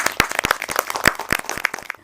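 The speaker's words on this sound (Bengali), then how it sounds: "সবার জন্য একটা জোরে হাততালি" Clapping from a small audience at an Eid children's program, a burst of quick, loud, uneven hand claps that fades out after about two seconds.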